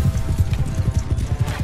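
Horse hooves clip-clopping in the video game Mount & Blade II: Bannerlord, a quick, steady rhythm of dull thuds as a horse moves along, close and prominent throughout.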